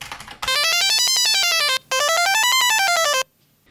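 A homemade 6502-driven sound synthesizer emits two loud, bright electronic tones, each sweeping up and back down in pitch, separated by a short gap before falling silent.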